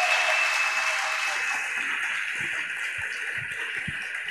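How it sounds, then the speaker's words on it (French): A church congregation applauds in a dense, sustained patter of many hands at moderate volume, fading slightly over a few seconds, with faint low voices underneath. "Acclame pour toi-même."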